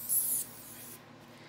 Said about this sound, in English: spray around the side and wet down my reed